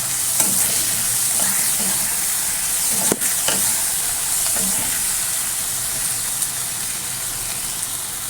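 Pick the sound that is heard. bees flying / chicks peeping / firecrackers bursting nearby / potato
potato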